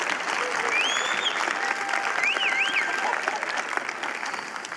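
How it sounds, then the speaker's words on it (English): A congregation applauds a choir and band in a church service, steady clapping filling the space at moderate volume for several seconds, with faint voices underneath. "You got one applause, fellas."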